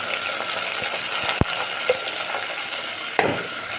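Drumsticks, onion and tomato sautéing in a pan for a Tamil fish curry, a steady close sizzle and hiss with a few clinks of a spoon against the pan.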